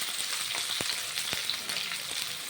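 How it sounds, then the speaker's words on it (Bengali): Pumpkin and sweet potato pieces fry in a pan with a steady, bright hiss, broken by a few soft scraping knocks as they are stirred, close and without voices. "নাড়াচাড়া করে ভেজে নিচ্ছি কুমড়োগুলো"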